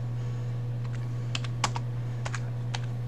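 Someone types on a computer keyboard in short, uneven bursts, a few sharp key clicks and taps spaced irregularly over a constant low electrical hum, close by and clear, with no talking.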